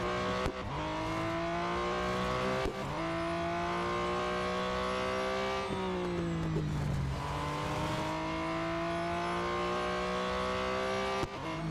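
A car engine in the racing game Real Racing 3 revs up steadily and drops back at each gear change, with several shifts over a continuous, close, loud drone and no voices.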